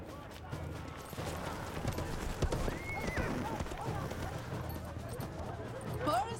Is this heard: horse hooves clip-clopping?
yes